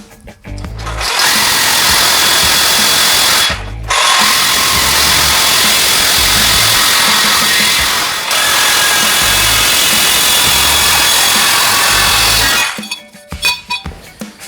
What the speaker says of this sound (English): I'll just cut it and make it what I need.